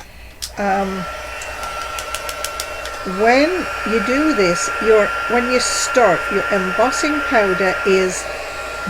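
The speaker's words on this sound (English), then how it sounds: "now I need to bring in my heat gun" A heat gun whirs steadily at close range while someone speaks over its constant blowing hum.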